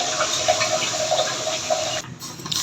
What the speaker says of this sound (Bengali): আমি একটু জল দিয়ে দিচ্ছি